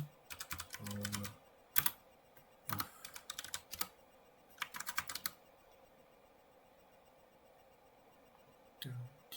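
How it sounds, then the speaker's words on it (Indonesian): Computer keyboard typing a command during a Docker Swarm cloud storage demo, heard as bursts of rapid close clicks in the first half, then a quiet stretch and one final short burst of keystrokes. "Sini kita ketik sudo power."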